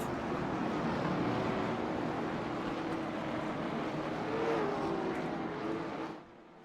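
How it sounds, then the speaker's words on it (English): A pack of late model race cars rolling at pace behind the pace car, a steady droning engine rumble with a slight rise in pitch before it fades away near the end. "Pace car is rolling. They've got 2 laps behind the pace car before they pop off."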